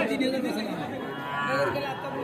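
Young bulls and heifer calves at the traditional Ambari village livestock market, a brief cattle moo amid the murmur of chatter from the crowd.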